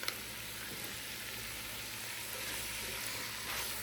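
Spicy beef chili sizzles in a pot on the stove as a steady, close, even hiss and crackle throughout, with no talking.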